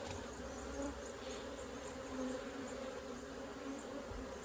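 Honey bees from a backyard mini nuc hive buzz in a dense, continuous drone, with individual bees flying past close by and no speech.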